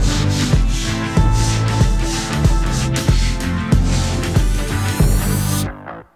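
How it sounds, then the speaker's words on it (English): A stiff bristle broom or brush scrubs a natural stone surface coated with etching cleaner, making loud, rhythmic back-and-forth rasping strokes, about two per second, close by and alone, ending abruptly. "We're also going to agitate it and scrub it with a good stiff bristle broom or brush."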